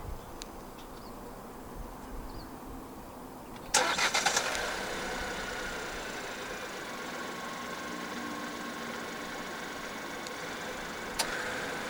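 A 2025 Proton X70 1.5 TGDi starts remotely while locked; after quiet outdoor ambience a sharp crank catches and settles into a steady, moderately loud idle that continues to the end.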